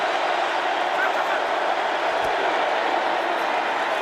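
Continuous loud crowd roar inside a Minnesota Vikings home stadium during an NFL game against the visiting Raiders, an even wash of noise throughout with no pauses.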